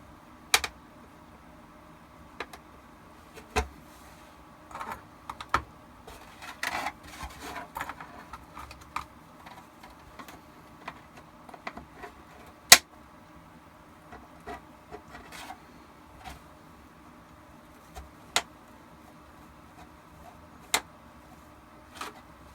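Scissors cut through a plastic armor thigh piece for a Shadow Trooper costume build, giving sparse sharp snips and clicks separated by quiet gaps, close and fairly faint.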